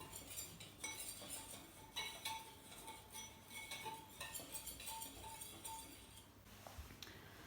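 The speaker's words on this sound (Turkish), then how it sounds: "Ve şöyle bir kuruları karıştıracağım" Dry biscotti ingredients and sugar are stirred in a bowl, with a utensil clinking and scraping against the bowl throughout, giving repeated light metallic taps at close range and no talking.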